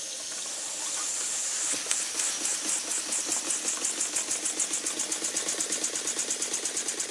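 Small custom steam engine with a bore of about 3/4 inch and a stroke over an inch, running slowly. A hiss builds into a steady rhythmic chuffing that gradually speeds up, close and fairly quiet, with no talking.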